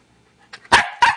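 A dog barks in two sharp, loud bursts close by after a faint short yip, with no talking.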